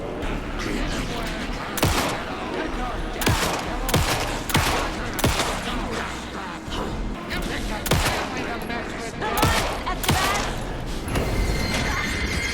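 Repeated bursts of Alan Wake 2 gunfire crack out over a steady rumble of action, with sharp shots spaced every second or two and faint voices underneath.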